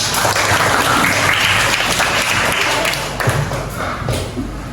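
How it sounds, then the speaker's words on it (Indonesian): A class of fourth-grade schoolchildren applauds together in a classroom, a dense, steady wash of clapping that holds loud for several seconds and then thins slightly, with a few sharper claps and faint voices mixed in. "Oke, tepuk tangan buat kita semua."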